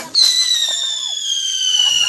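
A Diwali firework goes off with a sharp pop, then a loud, high whistle that slides slowly downward and carries on for about two seconds. Faint background sounds sit beneath it.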